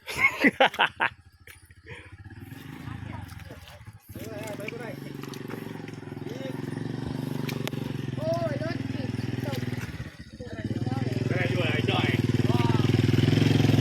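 A motorcycle engine rumbles steadily beneath people talking, the idle growing louder toward the end.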